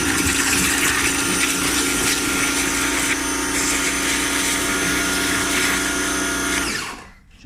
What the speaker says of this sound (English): give it a blast with a pressure washer and see how sturdy we get it.